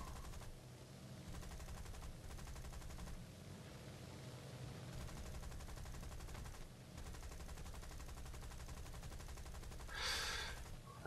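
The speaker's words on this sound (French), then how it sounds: "On dirait que je prends plein de coups de canon" Cannon fire strikes a biplane in a flying combat video game, heard as rapid rattling bursts over a steady droning engine, with a brief harsh hiss near the end.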